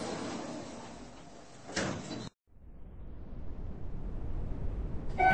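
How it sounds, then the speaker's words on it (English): Roblox elevator lift doors sliding shut on an MLC electronic traction lift: a broad whoosh of the closing doors ends in a short thud and a brief silence, then a low rising hum as the car starts to move. "Doors closing."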